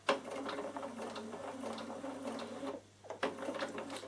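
A Bernina sewing machine stitches a buttonhole end in a steady mechanical whir, running continuously, pausing briefly near the three-second mark, then starting up again, close and clear with no talk.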